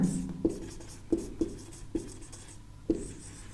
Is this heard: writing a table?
yes